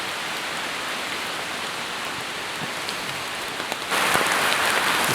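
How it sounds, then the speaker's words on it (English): Heavy rain pours steadily outdoors at an abandoned waterworks in Oregon City, Oregon, near a waterfall and rock wall, a dense continuous hiss of drops on surfaces that swells louder near the end. "It's really pouring rain now,"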